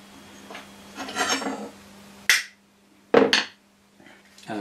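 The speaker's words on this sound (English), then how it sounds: "you literally just give it a tap with a hammer" Hammer tapping a metal shaft used as a centre punch: two sharp, loud metallic strikes about a second apart, preceded by rubbing and scraping and followed by a lighter knock, under a low steady hum.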